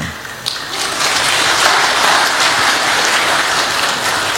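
An audience at a press conference at the Hotel Sultan applauds loudly and steadily in a dense, sustained wash of clapping lasting several seconds, with no voices over it.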